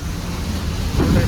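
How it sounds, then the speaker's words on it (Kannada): Heavy rain pounds a vehicle in stormy, windy weather, a dense continuous roar that grows louder near the end, with no voices. "ನೋಡ್ರಿ ಮಳೆ ಹೆಂಗ್ ಬರ್ತದೆ, ವಾ ಹೆವಿ ಜೋರಾಗಿ ಬರ್ತೈತೆ ಮಳೆ"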